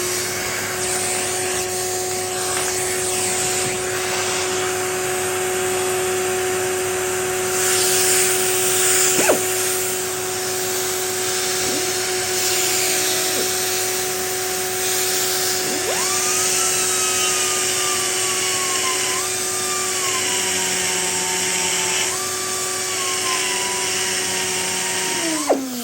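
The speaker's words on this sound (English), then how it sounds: "So here comes the hoover." A hoover vacuum cleaner runs continuously in a garage workshop, a steady loud whine with a constant hum and occasional pitch shifts and bumps, with no talking.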